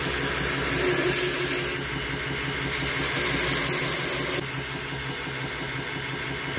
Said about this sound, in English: on we go to the small wheel, and we're just going to tidy up that handle section. As you can hear, it's running a lot slower.